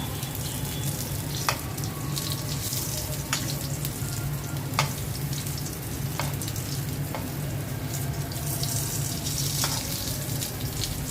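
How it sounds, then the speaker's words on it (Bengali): Pointed gourd slices sizzle steadily in hot oil in a frying pan, a constant close frying hiss broken by a few sharp clicks and scrapes as the slices are flipped. "পটল ভাজাগুলো উল্টে দিচ্ছি।"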